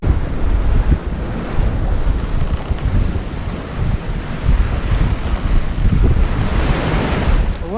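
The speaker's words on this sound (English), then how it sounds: "wind has been quite erratic" Gusty, irregular wind at sea aboard a small sailboat on a solo passage toward the Welsh coast, a loud, continuous roar of wind buffeting the microphone over breaking waves and rushing water, with no voices.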